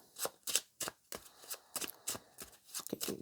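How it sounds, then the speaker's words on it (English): A deck of oracle cards is shuffled by hand, a series of about a dozen quick, crisp riffling bursts in an uneven rhythm, close and fairly quiet with no talk. "let's get into this and pull an oracle card"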